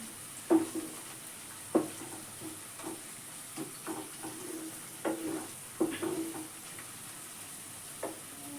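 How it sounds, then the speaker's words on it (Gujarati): Green turmeric curry sautés with spices in a pan, giving a soft, steady sizzle broken by a series of sharp scraping stirs at irregular intervals. "તો હવે થોડી વાર સાતળી નાખીએ"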